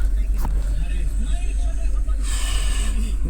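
A taxi car's engine idles on petrol before switching to CNG mode, a steady low hum that continues under a voice in the cab.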